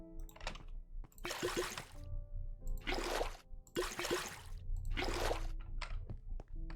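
Water in the game Stoneblock 3 gushes and splashes in several bursts with short pauses between, loud and close, alongside small clicking game effects.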